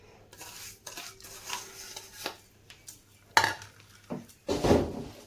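A utensil stirs cut mango with sugar in a pan, giving a few irregular scraping and clattering knocks against the metal. The strokes are close and moderately loud with quiet gaps between them.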